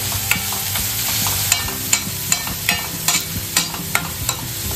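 Onions being stir-fried until reddish-brown in a pan for chicken masala, a steady close sizzle with a series of sharp scraping clicks from the stirring spoon, no voices.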